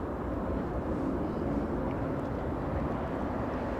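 A jet airliner rolls close to the runway at Los Angeles International Airport, its engines producing a loud, steady broadband roar that stays constant throughout with no breaks.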